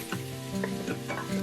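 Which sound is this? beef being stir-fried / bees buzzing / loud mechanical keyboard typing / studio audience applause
beef being stir-fried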